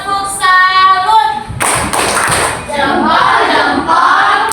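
A group of people clap in a rhythmic salute clap in a classroom-style gathering, a burst of sharp, loud claps breaking in after a brief chime-like tone, with sustained clapping after and voices faint underneath.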